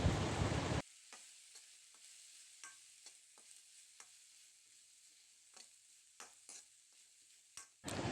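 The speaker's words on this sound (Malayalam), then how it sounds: "തേങ്ങ ഒരു വറവിൻ്റെ മണം വരുന്നത് വരെ ഒന്ന് വഴറ്റി കൊടുക്കാം" Grated coconut sautéed in a pan for chutney: loud bursts of sizzling at the start and end, with a soft steady fry and scattered scraping clicks of a spatula in between.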